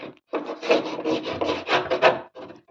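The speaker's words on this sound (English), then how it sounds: "In with my scraper." A hand scraper drags mud off the inner wing of a Morris Minor in a series of close, gritty scraping strokes, briefly pausing between bursts.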